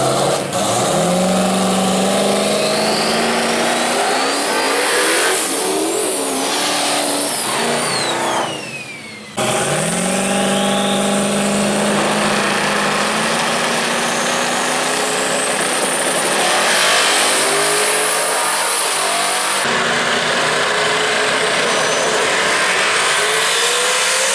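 A 2011 Mustang and a 2006 Mustang drag race at World Wide Technology Raceway, their engines roaring loud and close with rising revs, sharp gear-change breaks and a sudden cut before another surge.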